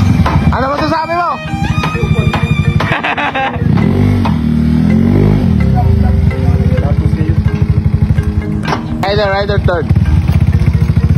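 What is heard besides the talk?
Honda Beat v3 superstock motorcycle engine revving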